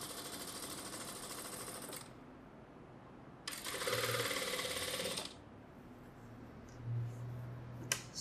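A sewing machine stitches fabric during a basic cutting and stitching class, running in two steady mechanical bursts of about two seconds each, close and fairly quiet, with a quiet pause between them.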